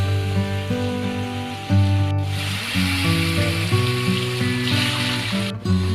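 Potatoes fry in a pan of hot oil with cumin and bay leaf, a continuous crackling hiss with brief stirring bursts, heard beneath steady background music.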